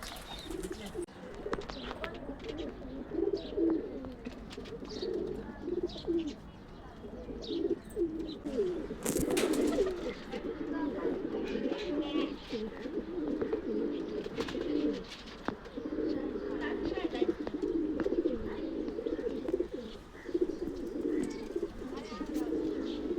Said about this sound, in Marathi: मला इथे कबूतर दिसलेले आहेत. तर खूप सारे कबूतर आहेत इथं